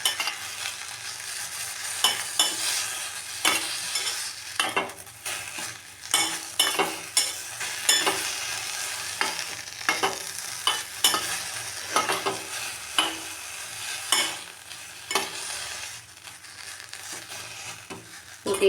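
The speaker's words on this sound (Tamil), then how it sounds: "நல்லா ஒரு லைட்டாக வதக்கிக்கணும். சாறு பிழிகிற அளவுக்கு வதக்கி எடுத்துக்கணும்." Herbs for a homemade cold and cough remedy are stirred and sautéed in a hot pan, giving a soft sizzle broken by repeated scraping and stirring scrapes at an irregular rhythm, close and fairly quiet.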